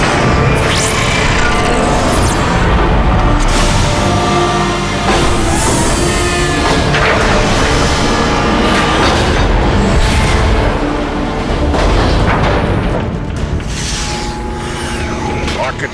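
Long-range artillery in the Transformers: Fall of Cybertron video game firing, with dense, continuous booming and mechanical clatter, very loud and unbroken for the whole stretch.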